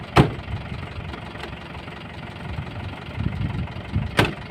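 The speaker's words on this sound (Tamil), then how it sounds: "வண்டி ஸ்டார்ட் ஆயிருச்சு." A vehicle engine idles steadily with a low rumbling drone, a couple of sharp clunks standing out near the start and end, with no voices over it.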